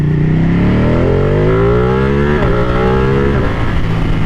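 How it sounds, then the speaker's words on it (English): A 2017 Ducati 959 Panigale sport motorcycle accelerates hard, its engine note climbing steeply through the gears with a brief dip at each shift. The sound is loud, close and continuous, with no talking. "Just absolute brutal acceleration, and it's such an exotic sound too when it really gets into that later part of the power band"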